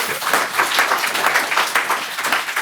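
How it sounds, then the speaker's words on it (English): Audience applause fills the room with steady, dense clapping at close range, holding loud and even throughout without pause. "Round of applause."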